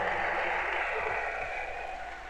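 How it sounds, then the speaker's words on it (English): Sustained applause from a church congregation, a dense, even wash of many hands clapping at once at moderate volume, fading slightly toward the end. "Give the Lord a mighty clap up."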